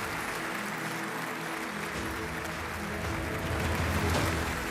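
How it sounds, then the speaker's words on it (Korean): A large crowd applauds and cheers at an Atomy Imperial Master promotion ceremony. The applause is steady and continuous, swelling slightly toward the end. "전 세계 글로벌 해외법인 현장에 계신 만여 명의 애터미 가족분들 한 번 더 축하의 박수와 환호를"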